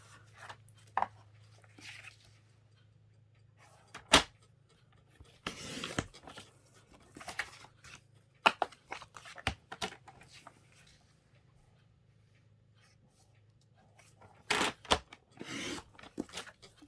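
A paper cutter slices through cardstock for card making, giving a few sharp, scraping swipes and clicks spread across quiet stretches, with the longer cutting runs near the end.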